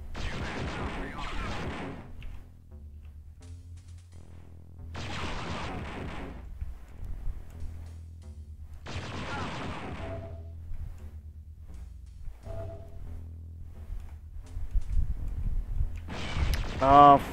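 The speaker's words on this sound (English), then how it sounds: "I can hear the fucking turret all the way from here." Turret fire in a Star Wars game at a research facility, booming in several long bursts from a distance, with low rumbling and game noise in the gaps and a louder burst at the end.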